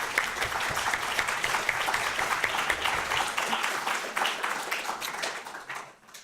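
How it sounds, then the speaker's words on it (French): Audience applause closing the first part of a conference debate on whether a company has a soul, a dense steady crackle of many hands sustained for about six seconds before tapering off at the end. "cet applaudissement marque la fin de la première partie"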